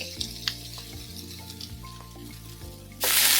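A fairly quiet kitchen with a low hum and light clinks gives way, near the end, to a sudden loud, bright hiss as chopped onions and garlic land in hot olive oil for a pumpkin leaf dish.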